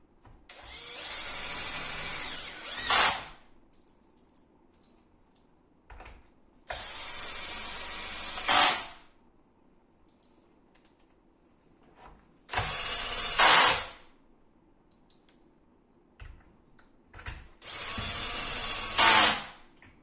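A cordless screwdriver on a low torque setting drives screws into a plastic chainsaw starter cover, whirring in four separate bursts of a few seconds each, with quiet gaps between them.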